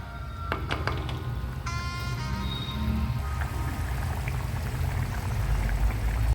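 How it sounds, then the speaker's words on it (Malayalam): Steady bubbling and gurgling of a simmering sardine curry gravy, with a few clinking utensil sounds early on; no voices. "നമ്മുടെ ഗ്രേവി നന്നായി തിളയ്ക്കുന്നുണ്ട്"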